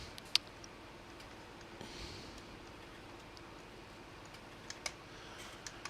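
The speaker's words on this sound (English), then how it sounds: "I'll just use my keyboard" Sparse clicks of computer keyboard keys, a few sharp taps spread over several seconds against quiet background noise during a Farming Simulator 17 session, with no talking.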